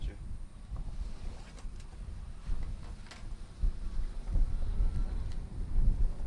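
Outdoor wind buffets the microphone as steady low rumbling and whooshing gusts that swell and fade throughout, with faint clicks and scattered background noise.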